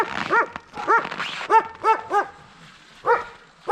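Several dogs bark in short, sharp bursts in winter cold of -50°C in Yakutia, a handful of yelps spaced irregularly, fairly close with quiet gaps between.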